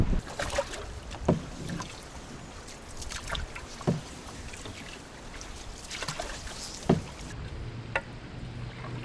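A kayak paddled across the Pontcysyllte Aqueduct in Wales, with soft splashes and dips of the paddle recurring every couple of seconds over steady outdoor wind and water noise, no voices.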